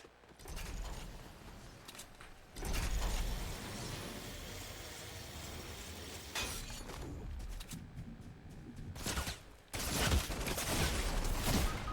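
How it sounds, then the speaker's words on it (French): Bursts of harsh, dense gunfire in Fortnite hammer in at intervals, loud clattering volleys broken by quieter gaps of game ambience. "Ça nous tire dessus."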